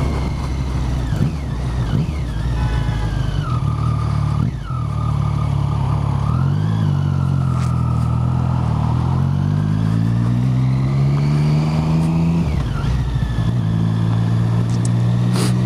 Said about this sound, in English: It's a really fairly quiet bike until you wind revs on. And then it just fucking screams at you.